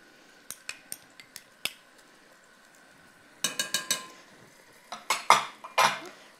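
Large spoons of tomato paste are scraped and knocked against a metal pot while cooking Tunisian chicken nouasser, giving sharp clinks, first sparse and then in quick clusters, close and with no talk.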